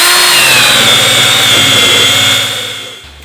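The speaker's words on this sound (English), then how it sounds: "I'm gonna try the rubber wheel on the vinyl stripes." A loud, steady high-pitched whine of a power drill spinning a rubber eraser wheel against vinyl boat lettering, grinding continuously before tapering off at the end.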